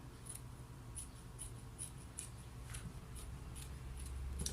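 Scissors snipping small notches into fabric for a tunic, a series of about ten quick faint crisp snips in an uneven rhythm over a quiet background.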